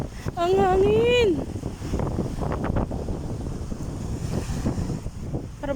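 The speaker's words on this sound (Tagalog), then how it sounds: "Gosh, ang hangin." Strong wind gusting along a seashore with rough sea, buffeting the microphone in a broad roar beneath nearby voices and a child's high squeal.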